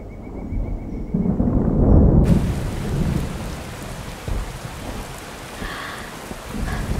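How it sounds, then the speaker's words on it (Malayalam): Steady rain pours outdoors while thunder rumbles heavily, loudest in the first couple of seconds, then settles into a continuous downpour with faint distant rolls; no one speaks. "പൂജ മഴ നനഞ്ഞാലോ?"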